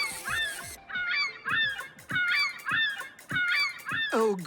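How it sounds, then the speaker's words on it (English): Cartoon seagulls give a rapid series of loud, honking squawks in a repeated rhythm of about eight calls, close and without any talk. "Oh, great. Seagulls."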